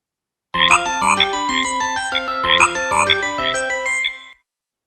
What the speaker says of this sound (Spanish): es la rana de Colby, que identificamos el sonido porque ha sido posicionado por muchísimas estrategias